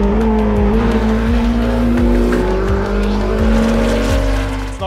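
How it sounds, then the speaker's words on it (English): A Porsche 963 twin-turbo V8 race car drives past loudly and close, its engine note rising through repeated gear changes in a sustained, aggressive roar. "It's not a naturally aspirated engine, it's a turbocharged engine, it's a twin turbocharged concept."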